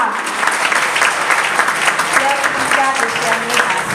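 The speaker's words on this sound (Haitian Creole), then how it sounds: "Applaudissez pour moi, s'il vous plaît, l'église." Sustained, dense applause from a congregation fills a church during an Apostolic Faith celebration, steady and enveloping from start to finish.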